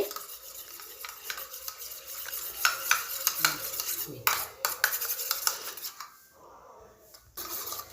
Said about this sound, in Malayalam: ഇത് നല്ലോണം അതിൽ മിക്സ് ആവണം കേട്ടോ ഇങ്ങനെ കട്ട കട്ടയൊന്നും ഉണ്ടാവാൻ പാടില്ല നന്നായിട്ട് മിക്സാക്കി കൊടുക്കുക